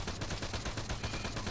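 Rapid bursts of automatic gunfire in the military shooter Arma 3, dense and continuous over a short stretch, loud and unbroken with no voices.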